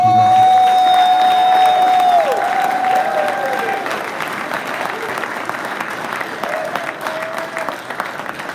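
Audience at the KBF National Championship awards ceremony breaks into loud, sustained applause with cheering and a few whoops, filling the room for several seconds before gradually thinning, with some tonal sound running underneath.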